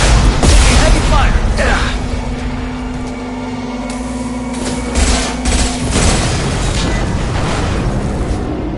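Heavy gunfire and explosive booms in a Mass Effect 2 battle: loud, dense bursts and blasts with a constant rumbling din beneath them, and voices mixed into the noise.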